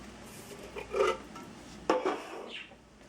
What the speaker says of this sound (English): And give it a nice stir.